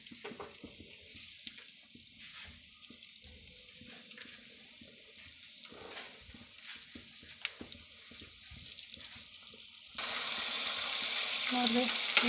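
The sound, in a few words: modak dumplings frying in hot oil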